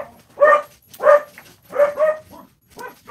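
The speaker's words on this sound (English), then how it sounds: "The dogs are going off because somebody just heard somebody outside." Dogs bark in a run of loud, close woofs and yips, about five bursts in steady succession, with no talking.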